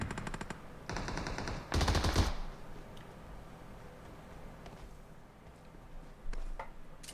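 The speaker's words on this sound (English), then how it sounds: "trying to provide some sort of cover fire and overwatch to his fallen teammate Obli" Automatic gunfire in PUBG Mobile during a tournament match, with several loud close bursts in the first seconds, then scattered fainter distant shots over ambient game noise.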